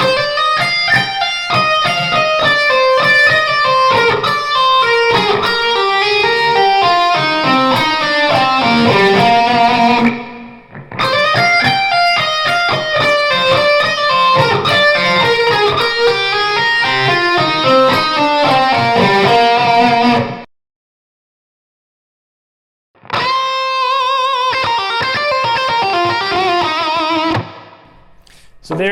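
Electric guitar plays a solo lick slowly, repeated melodic note runs with bends in two long passes, a pause, then a shorter third pass, loud and clean with no speech.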